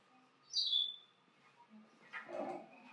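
Bird call from a sound library played during a storyline workshop: a short high chirp followed by a fuller, rougher burst of bird vocalization, quiet and heard alone.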